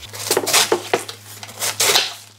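A knife slicing through mustard greens and cabbage on a cutting board in a home kitchen, with several crisp chopping strokes in an uneven rhythm, close and moderately loud, over a steady low hum.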